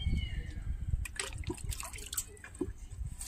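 Water is sprinkled lightly onto a dragon fruit plant, giving soft close splashes and drips against a low background rumble.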